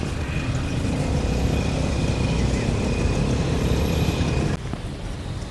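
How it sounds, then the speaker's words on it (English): Dense, loud traffic around Democracy Monument in Bangkok, with a continuous rumble of cars, buses and trucks, a high whine and a brief air-brake hiss, easing slightly near the end. "There's currently a traffic chaos going on."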